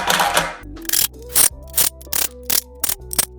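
A ratchet tightening the oil pump pickup bolts on an LS engine build, with short, loud bursts of rapid clicking repeating about every half second, close and alone.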